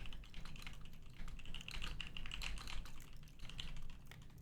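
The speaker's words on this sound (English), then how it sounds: "Yes, I'm typing back to you" Rapid, uneven clatter of keys on a computer keyboard, quiet and close, with short bursts and brief pauses as someone types a chat reply during a livestream.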